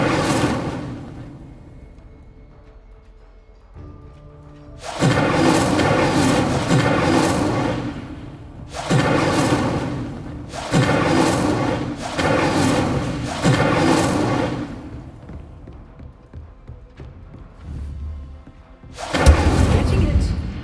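Incendio fire spells cast repeatedly during a duel in the Hogwarts Legacy game, a series of loud whooshing, booming bursts in quick succession with pauses between, plus a final heavy thud.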